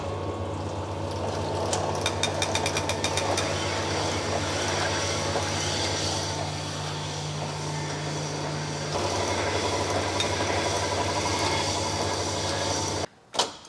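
A V8 engine block cylinder bore is machined with a steady, loud mechanical drone and motor hum. A rapid series of ticks sounds early, a low tone drops away partway through, and a brief thump closes the run.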